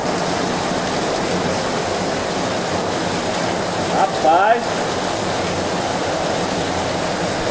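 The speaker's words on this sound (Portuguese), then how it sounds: "A chuva é com vento." Heavy, wind-driven rain in a hillside town falls as a steady broadband wash, with someone briefly speaking partway through and a short gust or splash standing out just after.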